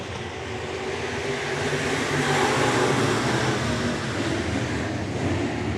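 Sportmod race cars run a heat on the Clay County Speedway dirt track, their engines a steady, loud, distant roar that swells slightly and holds without a break.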